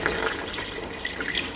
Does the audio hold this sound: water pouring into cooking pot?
yes